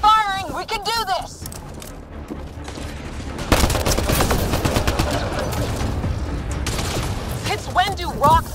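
Sustained automatic weapon fire crackles through a firefight in the Mass Effect Andromeda video game, a dense, loud, continuous rattle, with voices shouting before and after the shooting.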